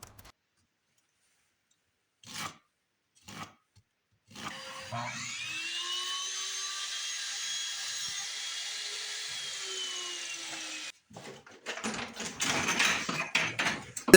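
A power saw cuts a wooden fence picket at a 15-degree angle. A few sharp clicks come first, then the motor whines at a steady pitch for several seconds. After it stops, a burst of rougher workshop noise follows.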